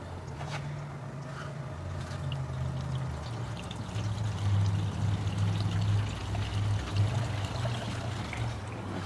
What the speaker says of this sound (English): So I got a little measuring cup and we're going to 1 quart.